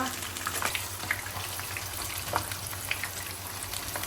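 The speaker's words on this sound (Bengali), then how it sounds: "পাবদা মাছগুলো ভেজে নিচ্ছি" Pabda fish fry in hot oil in a home kitchen, giving a steady sizzle with scattered sharp pops and crackles throughout.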